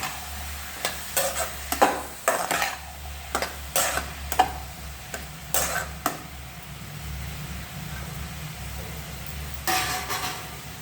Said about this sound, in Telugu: అన్నీ ఇలా ఇందులో మనం వేసుకున్న తర్వాత ఒకసారి మనం కలిపేసుకోవాలి